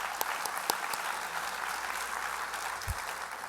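Audience applause at a State of the Nation address, steady clapping from a large crowd filling the whole stretch at a moderate, even level.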